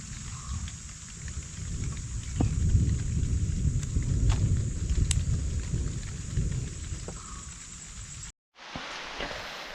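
Heavy rain pours steadily outdoors while thunder rumbles low and long during a storm at a mango harvest. Sharp drops patter close by, and the roar breaks off abruptly near the end.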